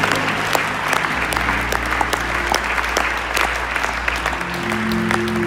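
Church congregation applauding at the Rock Church as a preacher is welcomed to the pulpit, a loud continuous roar of many clapping hands with a low organ-like drone underneath.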